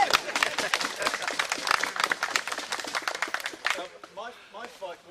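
An audience claps for Major Roy at a wrestling anniversary show, a burst of dense, sharp clapping that thins out after about four seconds into a few scattered claps and some voices.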